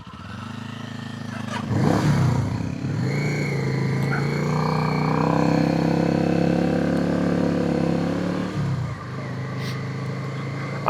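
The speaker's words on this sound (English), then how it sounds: "It's a handsome motorcycle" A motorcycle engine hums on an evening ride through Cumbria, a steady, close drone with a clattering bump early on, holding its pitch for several seconds before easing off near the end.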